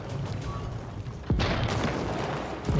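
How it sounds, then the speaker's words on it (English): Cannons boom during a Holy Roman Empire battle in a strategy game, one heavy blast breaking through a dense, continuous din of combat. "The cannons blasting through on each side."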